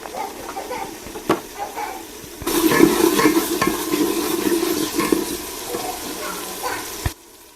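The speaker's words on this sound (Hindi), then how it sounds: "टमाटरों को आपने अच्छे तरीके से इसे मिक्स कर लेना है, गाड़ लेना है।" Tomato masala stirred in a pan while cooking tinday sabzi: after a quiet start with a few clinks, a steady hissy scraping and sizzling rises and runs for several seconds, then cuts off abruptly.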